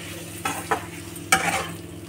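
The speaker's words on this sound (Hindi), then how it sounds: "और ये भिंडी को भी हम इसमें ऐड कर देंगे" Okra being stirred into a frying pan for a spiced okra dish, with a steady sizzle under three scraping stirs of the spoon, close and moderately loud, no talk.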